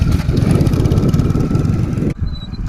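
A Hero Splendor motorcycle with a broken clutch runs with a steady, loud engine drone that cuts off abruptly near the end, leaving a quieter rumble.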